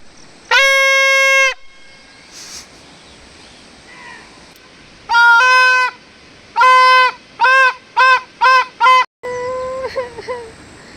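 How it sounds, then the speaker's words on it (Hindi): Parrots being shooed away squawk loudly and harshly: one long call, then a cluster of short repeated shrieks and a final call, close and prominent over quiet outdoor background. "तोता आ गया? चलो चलो भगाते हैं।"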